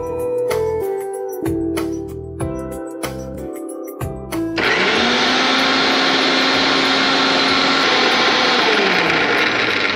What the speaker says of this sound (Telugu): అలాగే దీన్ని మిక్సీ పట్టేసుకుందాం